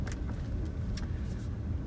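Car interior while driving with passengers aboard, a steady low road and engine rumble with a few faint clicks and rustles and no talking.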